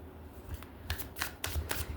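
A tarot card deck being shuffled, with soft riffling bursts and card slaps repeating in quick succession, close and fairly quiet, with no voices.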